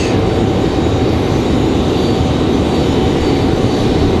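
An Icelandair airliner runs up its engines before departing Raleigh-Durham International for Reykjavik, giving a steady, loud, broadband jet roar that holds without a break for the whole span, with no voices.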